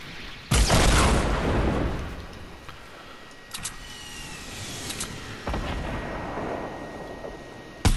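Rocket explosions in the Fortnite video game, several loud booming blasts spaced a few seconds apart, each followed by a rumbling decay, with no talk.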